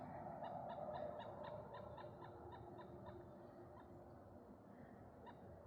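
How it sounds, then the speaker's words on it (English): Faint fowl clucking carries from a distance on an outdoor nature trail, a rapid series of short repeated calls over a low steady background hum. "it sounds like a chicken"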